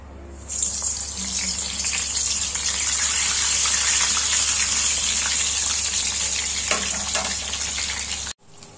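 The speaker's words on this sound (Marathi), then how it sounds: "आता आपण ही वांगी तळून घेऊया" Slit brinjals (eggplants) fry in hot oil, a loud steady close hiss and sizzle that continues unbroken before cutting off abruptly.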